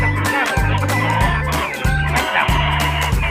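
Chickens at a small farm plot cluck and squawk in repeated bursts close by, with a strong low droning hum underneath and faint activity between calls.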